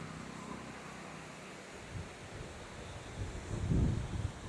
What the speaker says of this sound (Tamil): தண்ணியெல்லாம் வந்துட்டுருக்கு.